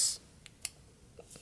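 Scissors cut yarn while a loomless jellyfish is made: a few short, quiet snips and clicks spread over a second and a half, close by with no talk.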